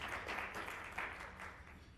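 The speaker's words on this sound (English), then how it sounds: "Give yourselves a round of applause" Applause from a crowd at a business event, a dense continuous patter of clapping at moderate volume with slight swells, no voices over it.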